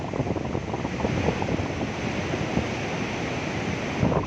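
Water discharges from a dam at about seven thousand cusecs, a continuous rushing roar with wind buffeting the microphone and no talk.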